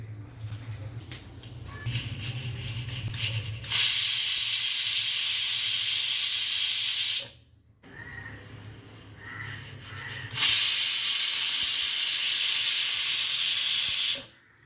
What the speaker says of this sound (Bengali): কুকারটা ফুল ফ্লেমে দুটো সিটি উঠলে বন্ধ করে দেব